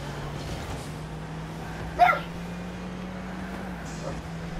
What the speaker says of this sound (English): You might be able to hear my dog in the background.